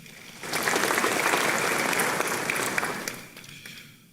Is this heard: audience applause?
yes